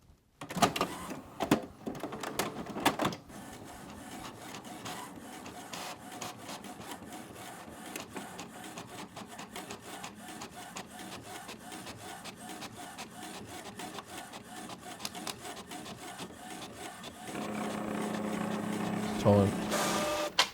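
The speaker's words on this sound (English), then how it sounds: "We're out of magenta on the printer." An inkjet printer runs steadily for about twenty seconds with a dense mechanical whir and rapid ticking, growing a little louder and busier near the end.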